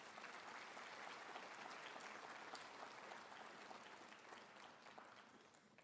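An audience at a 2024 graduation ceremony breaks into sustained applause, a dense, steady wash of clapping heard from a distance that fades slightly toward the end.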